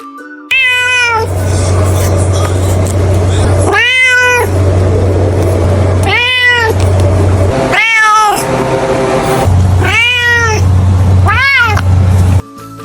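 A Chinese mountain cat calls with about six drawn-out, evenly spaced yowls, loud and close, over a low steady hum.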